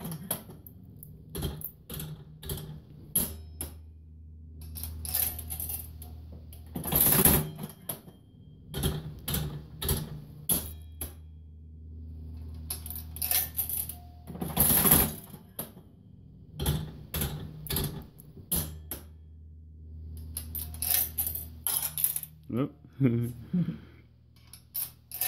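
A 1950 Jennings Sweepstake Chief 5-cent slot machine clatters through repeated mechanical pulls and reel spins, with sharp loud clunks and a brief coin-payout rattle near the end, while people talk in the background.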